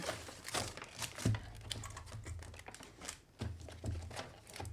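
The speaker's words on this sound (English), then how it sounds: "I love the sound of packaging and things being opened on video" Crinkly rustling and crackling of stationery packaging being handled and opened, close up, in irregular bursts with brief quieter gaps.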